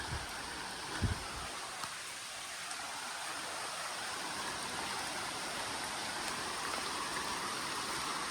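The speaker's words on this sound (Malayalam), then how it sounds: "മഴ അങ്ങോട്ട് ഭയങ്കര ഭീകരമായിട്ട് നിൽക്കുകയാണ്" Steady, dense heavy rain pours down in an unbroken hiss beside the Pamba River, loud and continuous throughout, with a couple of faint knocks near the start.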